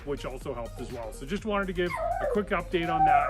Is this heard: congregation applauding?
no